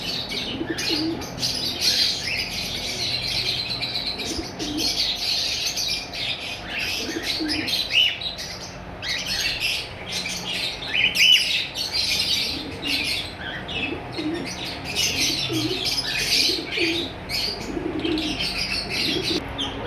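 A steady chorus of chirps and squawks from caged red-eyed albino personata lovebirds, loud and close. Pigeon coos and wing flutters mix in throughout.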